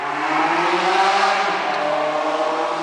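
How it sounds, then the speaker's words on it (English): Motorcycle passing by outside a used-car lot in Miami, a loud sustained engine drone that swells and slowly fades over about three seconds, with no speech over it. "Sorry about that motorcycle noise pollution,"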